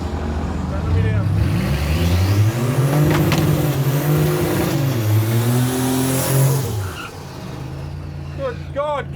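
A V6 turbo drag car engine revs hard and loud against the rev limiter, its pitch rising and bouncing in a sustained snarl for several seconds before dropping away, with people talking over it.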